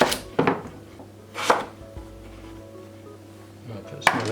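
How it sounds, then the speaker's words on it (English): A knife chops butternut squash into chunks on a board, with three sharp cuts spaced a second apart, each a bright thud, followed by a quieter pause and one last cut. No one speaks. "And then just start to cut it into discs."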